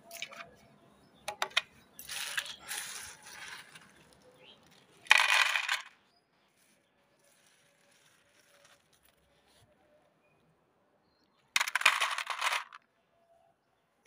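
Dried rice papads tipped into a container, crisp rattling clatters in a few short bursts separated by quiet pauses, close and fairly loud.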